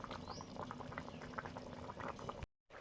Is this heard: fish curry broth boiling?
yes